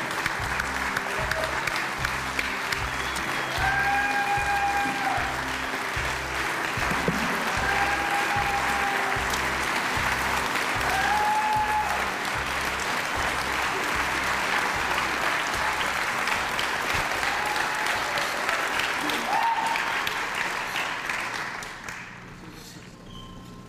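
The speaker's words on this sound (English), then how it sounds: "Everybody, please give a huge round of applause for my good friend, David Miller." Sustained audience applause after a speaker is introduced, a dense steady wash of clapping for over twenty seconds that tapers off at the end, with a few faint tones over it.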